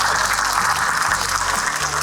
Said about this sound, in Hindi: ई बात वास्ते एक बार आ खातर सब खातर ताली बजावनी चाहिए